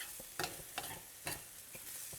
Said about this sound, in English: So we need to sweat the rice off a little bit.